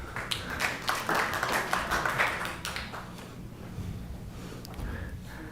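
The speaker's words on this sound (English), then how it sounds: "I'm trying to discourage clapping" Audience clapping at a city council meeting, a moderate burst of scattered hand claps that swells then tapers off into room murmur.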